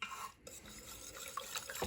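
A spoon stirs homemade yogurt in an InstantPot with soft, faint, close scraping and swirling against the pot in a brief burst, without talk.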